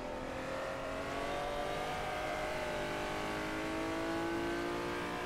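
Honda NSX-R at Suzuka in rFactor, its engine holding a steady, loud, high-revving wail with slowly rising pitch and no voices over it.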